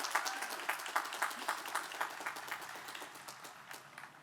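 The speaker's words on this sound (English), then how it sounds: "Another round of applause for Truman." Audience applause at a 2024 college commencement ceremony, steady dense clapping from a large crowd in a big space, fairly distant and even, tapering slightly toward the end.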